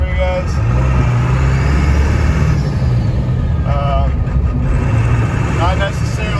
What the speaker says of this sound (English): Going through the gears for you guys.